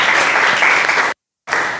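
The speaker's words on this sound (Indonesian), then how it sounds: "Oke, kasih tepuk tangan." Applause from a class of students during an Indonesian coding and artificial intelligence lesson, a dense steady clatter of many hands that cuts off abruptly, goes silent for a moment, then resumes.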